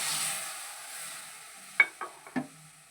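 Raw tamarind pulp goes into a hot mustard-seed tempering: a faint steady hiss, then a few sharp bursts of sizzle and spatter as the pulp hits the oil, close and alone.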